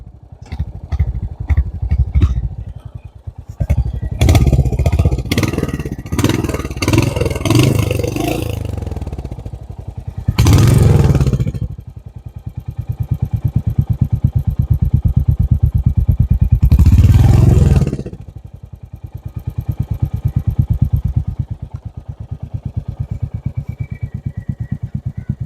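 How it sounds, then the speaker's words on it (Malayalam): Royal Enfield motorcycle engine running close by, a steady low thump with repeated throttle blips and revs through the first gears, including two sharper rises in revs. "ഇതും റോയൽ എൻഫീൽഡ് കുടുംബത്തിൽ പെട്ടത് ആയതുകൊണ്ട് തന്നെ ഇത് ആദ്യത്തെ ഒരു ഫസ്റ്റും സെക്കൻഡും ഒക്കെ ഏകദേശം ഗിയർ എല്ലാം കുറച്ച് അഗ്രസീവ് ആയിരിക്കും"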